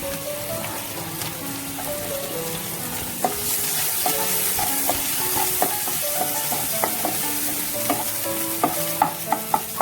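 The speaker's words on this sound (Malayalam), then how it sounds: "എന്നിട്ട് സവാള ഇട്ട് കൊടുക്കാം. ഒപ്പം തന്നെ എടുത്ത് വെച്ചിരിക്കുന്ന പച്ചമുളക് ഇട്ട് കൊടുക്കാം." Sliced onions and green chillies sizzle steadily in hot oil in a pan on low heat, with a spoon scraping and clinking through them in irregular strokes that grow busier toward the end; no voices.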